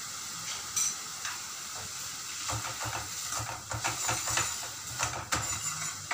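Onions fry with salt in a pan while being stirred, a steady close hiss overlaid by intermittent scraping and clinking, with no voices.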